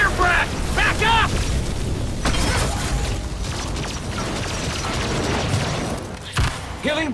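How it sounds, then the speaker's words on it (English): A monster's fire breath attack in the video game Evolve, a sustained roaring, rumbling blast that fills several seconds, loud and close, with game voices calling out over it. "Fire breath!"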